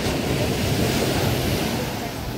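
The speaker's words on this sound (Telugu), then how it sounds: "ఇది బ్రోకెన్ బీచ్ అన్నారు" Ocean surf washes steadily onto Broken Beach in Bali, a continuous broad roar of waves with wind buffeting the microphone.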